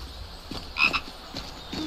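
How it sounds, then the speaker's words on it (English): Frogs croak in the Skyrim video game, a few close, low rhythmic calls with a brighter chirp near the middle, set over a soft ambient background with no talking. "You got some Mihail frogs."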